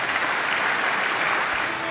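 An audience at a downtown civic presentation gives a brief, even round of applause, a dense wash of clapping at moderate loudness with no pauses.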